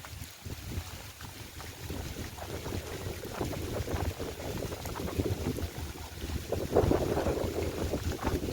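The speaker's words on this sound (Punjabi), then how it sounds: "ਤੇਜ਼ ਹਵਾ ਆ ਗਈ ਹੈ ਤੇਜ਼" Strong gusting wind roars over the microphone in a continuous, buffeting rush, swelling louder toward the end, on a farm in a rain break.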